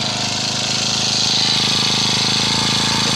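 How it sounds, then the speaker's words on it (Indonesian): A small four-stroke lawn mower engine runs at a steady idle, a continuous buzzing drone close by, with no other sounds. "Ini mesin udah coba dihidupkan."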